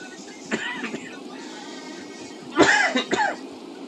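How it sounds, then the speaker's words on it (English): A man coughs while spotting ships along a shipping lane as he recovers from a cold: a faint early cough, then a louder, harsher burst of two or three close coughs over steady outdoor background hum. "Sorry about cough, guys."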